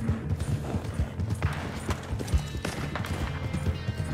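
Horse hooves galloping in Red Dead Redemption 2, a rapid, steady clip-clop rhythm of hooves pounding along, close and continuous for a few seconds with faint game background noise.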